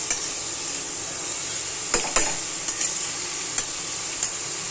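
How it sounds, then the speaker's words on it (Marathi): Grated carrot frying in ghee for gajar halwa gives a steady bright sizzle, with a few sharp scrapes of a spoon stirring against the pan. "हा चांगला हे तुपामध्ये ना फ्राय होऊन द्यायचा."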